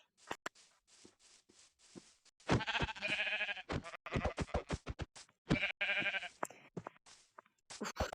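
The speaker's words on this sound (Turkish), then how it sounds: "Burada birkaç tane koyun var." Several sheep in the video game Minecraft bleat repeatedly, loud and close, in short separate calls with clicks and gameplay sounds between them, and no talking.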